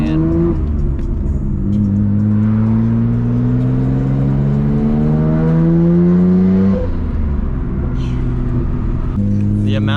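A straight-piped Subaru engine revs loud and close, its droning exhaust note climbing steadily for several seconds, dropping, then rising again, with voices faintly underneath.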